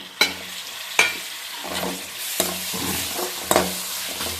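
Tomatoes tumble into a hot pan of sizzling ginger-garlic paste, a steady fry broken by several sharp clatters of stirring, close and alone with no talk.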